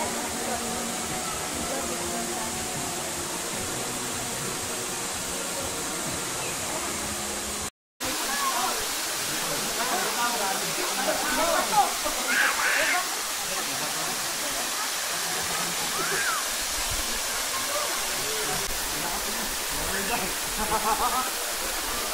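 Batlag Falls pours in a steady, loud rush of falling water that fills the whole scene without a break, apart from a brief dropout partway through, and nobody speaks over it.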